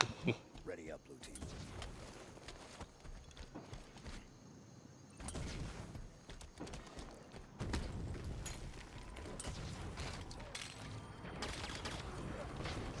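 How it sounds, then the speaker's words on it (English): Sniper jackal fire in the video game Halo 5 Guardians, a few sharp distant shots in busy game combat noise, with faint voices in the background. "That's a sniper jackal, by the way, that just killed."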